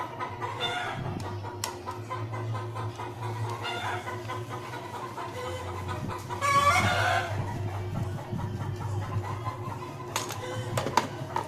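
A hen clucks repeatedly after laying an egg, in a steady stream, with a louder burst of squawking partway through and a low hum underneath, no voices.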